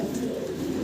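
Fancy pigeon, a fancy breed shown for quality, cooing in a low, continuous murmur close by, with no pause across the short stretch.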